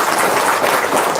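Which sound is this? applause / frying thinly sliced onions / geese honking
applause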